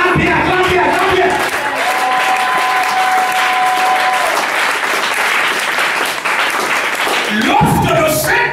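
A church congregation bursts into loud, sustained applause and cheering that fills the room for several seconds, with voices shouting through it and a brief swell of sound near the end.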